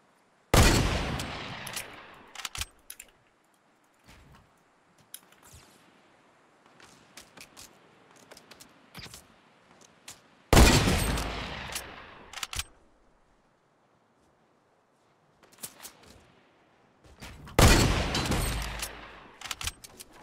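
Bursts of gunfire in Fortnite Battle Royale, with heavy loud volleys separated by quieter stretches of scattered single shots and in-game clatter, no voices in between.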